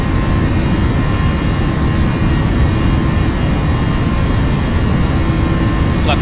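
Steady, loud jet engine roar of a Boeing 737 in a flight simulator game, a continuous broadband drone with a low rumble holding evenly throughout, no talk over it.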